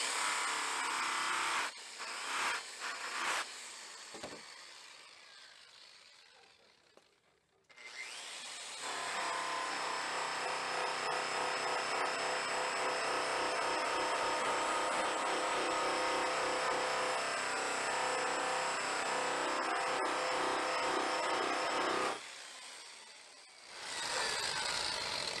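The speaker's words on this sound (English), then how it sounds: "turn it on, put some on the wheel, and buff it out, and it's pretty much instantaneous" A motor-driven buffing wheel spins up and runs loud and steady while it polishes a plastic headlight lens with Tripoli compound, a sustained whirring grind with brief starts and stops at the beginning and end.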